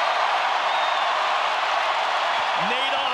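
Basketball arena crowd roaring steadily at the final seconds of a San Francisco vs. BYU men's game, a dense, loud wash of cheering and noise with a brief whistle-like tone near the end.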